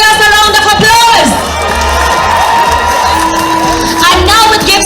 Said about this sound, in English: Let us give our warriors a round of applause.